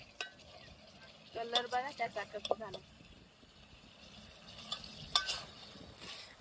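Mutton cooks in a pan, a faint sizzle with stirring scrapes and a few clinks of a utensil, under quiet talk in Marathi.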